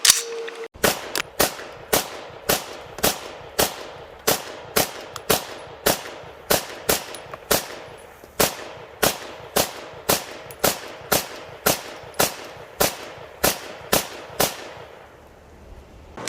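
Rapid string of sharp gunshots from a Colt R633 9mm AR15 rifle with a factory trigger, about twenty-five evenly spaced loud cracks over sixteen seconds, fired alone with no talking.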